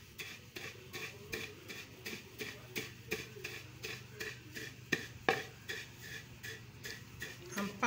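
Rice is pounded by hand to strip the husk. Regular, evenly spaced thuds repeat across the whole stretch with a few sharper knocks, all fairly close and quiet.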